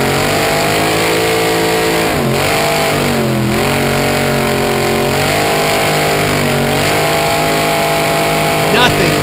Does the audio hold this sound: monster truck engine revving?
yes